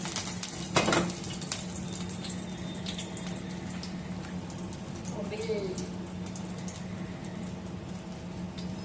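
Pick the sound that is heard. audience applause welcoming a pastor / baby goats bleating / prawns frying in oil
prawns frying in oil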